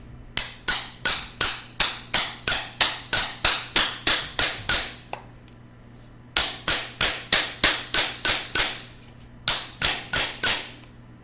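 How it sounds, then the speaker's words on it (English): A hammer strikes a swage driven into copper tubing to enlarge its end, delivering loud, evenly spaced metallic blows in three bursts separated by short pauses. "I'm just going to swedge this down to enlarge the size of the copper tubing"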